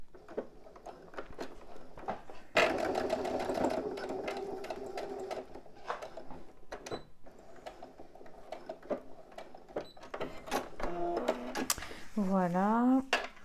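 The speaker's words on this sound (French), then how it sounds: "je vais venir faire une petite surpiqûre." A sewing machine runs a topstitch along a backpack seam in a steady, rapid whir, stopping and restarting, with a few clicks and handling noises and some talking around it.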